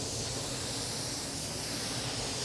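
A spray gun lays down urethane-based primer during a classic Ford Bronco restoration, giving a steady, unbroken hiss of air and spray with no other sounds.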